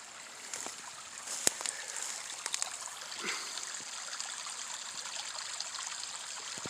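Overflow water from a ram pump pours back into a creek as a steady, close trickling rush, with a few sharp clicks and splashes on top and no talking.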